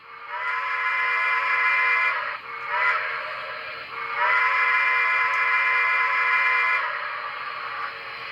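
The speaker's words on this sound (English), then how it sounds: "Here's a whistle." A Broadway Limited N scale Light Mikado model locomotive sounds its electronic steam whistle in three long chiming blasts with short breaks between them, loud and clear with no talking.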